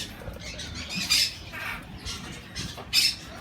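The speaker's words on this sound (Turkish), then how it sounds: "Bütün papağanlar var." Harsh squawks of parrots, including cockatiels and lovebirds, at an animal market burst out in short, loud calls, a couple standing out strongly, with chattering and rustling of several birds in between.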